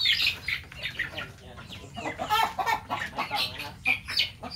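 Chickens cluck and chatter in a lively, overlapping flock close by, with brief wing flutters mixed in and faint human voices in the background.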